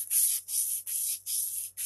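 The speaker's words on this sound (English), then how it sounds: "I'm just paying attention to making sure that I'm truly registered on the sandpaper here" A knife blade is sharpened on sandpaper in five steady rubbing strokes, each a close, hissing scrape separated by brief pauses, with no talking.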